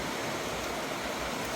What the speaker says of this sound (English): plenty of water going down the drain